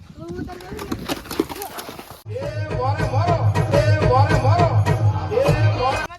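Rhythmic hoofbeats of a mare clip-clop steadily under a busy crowd of voices at a religious gathering in Visavadar, Gujarat, with a loud low rumble setting in partway through.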